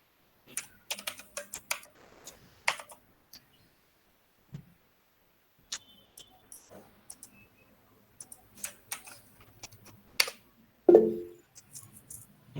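Several people typing on computer keyboards in a busy room during a game jam, bursts of clattering keystrokes in uneven runs with short pauses, near and fairly loud, with a few brief voices and a louder thump near the end.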